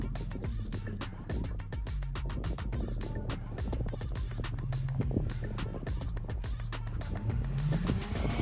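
An all-wheel-drive car with a Nissan VQ engine runs at full throttle while sliding, giving a sustained engine drone with shifting pitch and rapid crackling, rattling texture, heard from nearby and steady throughout.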